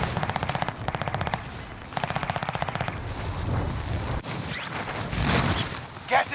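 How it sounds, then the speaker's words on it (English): Rapid automatic gunfire from hostile players in a battle royale video game, several short bursts in quick succession followed by louder mixed shots and game effects. "Receiving hostile fire."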